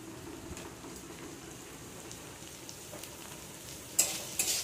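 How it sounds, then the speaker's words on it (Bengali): Three kinds of capsicum and a little onion, lightly salted, stir-fried together in a pan: a faint, soft sizzle with a few louder scrapes or stirs near the end. "দিয়ে দিচ্ছি 3 রকম ক্যাপসিকাম আর অল্প একটু পেঁয়াজ দিয়ে একসঙ্গে করছি"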